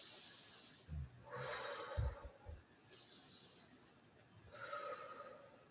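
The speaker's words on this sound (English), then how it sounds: "you'll have to do more of this concentrated breathing" Slow, deliberate breathing used as a comfort measure in labour: four long, close, audible breaths alternating between inhale and exhale, soft and hissy, with no talking.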